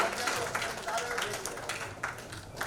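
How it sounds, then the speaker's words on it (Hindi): An audience at an award ceremony for nursing and paramedical institutes applauds with a sustained wash of scattered clapping, moderately distant and fairly soft, with some voices mixed underneath. "आप सबकी बधाई रूपी जोरदार तालियों के साथ"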